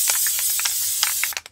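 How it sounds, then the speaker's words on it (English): Tacky spray adhesive sprays from an aerosol can onto ribbon inside a box, a loud, steady hiss broken by short bursts and ending in several quick, sputtering spurts. "I have a box because I'm going to use the spray adhesive. This is tacky spray."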